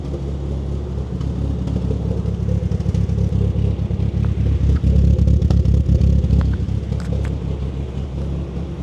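A Nissan S14 Silvia engine with 266/260 cams, still running a catalytic converter and fueled on E85, idles lumpy up close, a deep rumbling drone with an uneven, choppy pulse and faint clattery ticks over it.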